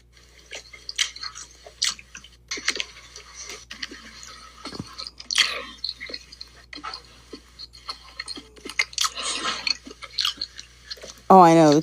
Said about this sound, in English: Oh, I know, the chewing.